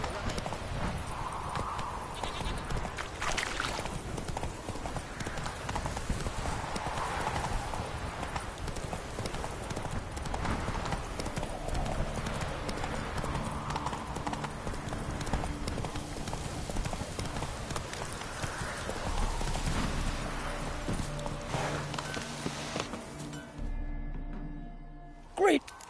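Steady clip-clop of hooves from Geralt's horse Roach in The Witcher 3, a continuous trotting rhythm throughout, with game dialogue voices talking over it and a brief clatter near the end.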